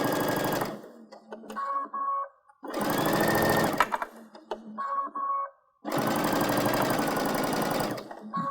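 A sewing machine stitching around a patchwork stocking, three loud bursts of rapid mechanical whirring separated by short pauses filled with faint clicks and handling noise.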